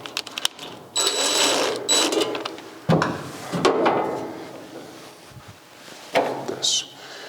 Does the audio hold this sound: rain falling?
no